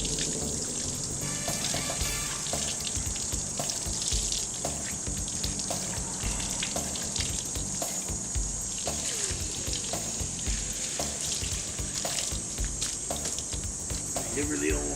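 A paintbrush has soap rinsed out of it under a running tap, and the water splashes steadily and loudly the whole time with a constant hiss and spatter.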